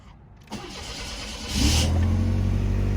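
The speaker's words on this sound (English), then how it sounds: "So we'll start it up here." A 1996 Pontiac Grand Am engine cranks and catches, then settles into a steady, loud idle close by, with no voices.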